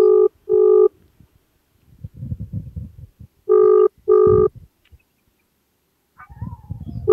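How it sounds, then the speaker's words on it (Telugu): An outgoing phone call rings back with two double-pulse tones, the second pair arriving after a pause of about three seconds, with faint low rumbling and murmuring in the gaps. "వాడి ఫోన్ రింగ్ అవుతుందా లేకపోతే ఏమవుతుంది అనేది చూద్దాము"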